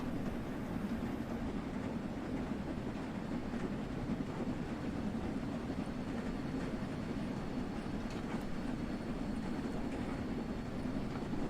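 Steam locomotive in Train Sim World 3 slogging slowly up a steep gradient, a dense continuous rumble of rolling stock and wheels on rails, steady and fairly loud with no voices over it.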